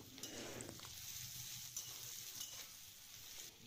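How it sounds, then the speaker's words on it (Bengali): Onion frying in a pan for paneer butter masala gives a soft, steady sizzle and crackle throughout, faint and with no talk. "খানিকক্ষণ ধরে পেঁয়াজটা ভাজতে হবে"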